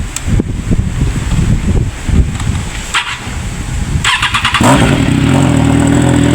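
A Triumph 660cc motorcycle cranks and fires up, then settles into a loud, close idle with a throaty rumble and some wind buffeting after a few seconds of handling noises.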